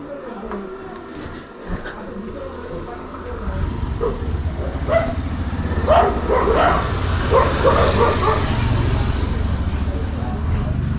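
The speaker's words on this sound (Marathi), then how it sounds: "फक्त कुत्री भुंकतात तेवढंच" Dogs bark at night in the quiet Konkan countryside during Mahashivratri, a scatter of yips and barks rising in the middle and late part, fairly distant, over a steady low background rumble with faint voices.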